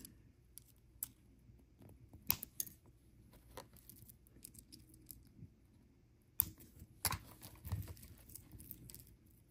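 Scissors trim jewelry wire on a bohemian necklace in a quiet room, with a few small sharp snips and clicks spread across the stretch and near silence between them.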